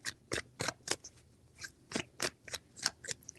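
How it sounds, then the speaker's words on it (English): Tarot cards are shuffled by hand in quick, crisp bursts, about a dozen riffles in an uneven rhythm, close and fairly loud in a quiet room with no speech. "3 shuffles."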